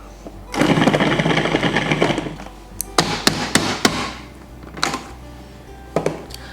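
A kitchen appliance grinds dry baking ingredients into a sandy texture, a loud whirring burst of about two seconds followed by sharp taps and knocks, then shorter pulses and clunks nearby.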